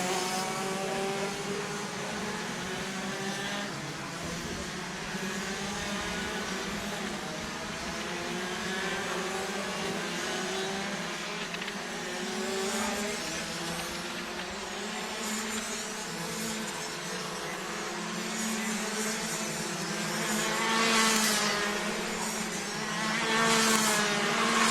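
DD2 racing karts at a kart championship give a continuous high-pitched two-stroke engine drone that rises and falls as they lap, with louder, closer passes near the end and no voices.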